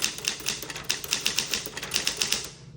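Typing on a 1960s Smith Corona Classic 12 manual typewriter with a light touch: a steady run of crisp, close key strikes in quick irregular rhythm, heard alone.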